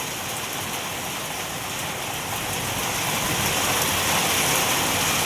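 Heavy monsoon rain pours down during a power outage, a loud, steady roar of falling water that swells slightly toward the end, with no voices.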